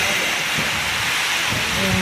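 Heavy torrential rain falling in a steady, dense roar that stays loud and even throughout, with no clear voices.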